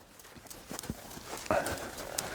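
Horse hooves clip-clop in an uneven rhythm on the ground as the horse is circled during training, moderately close over low background noise.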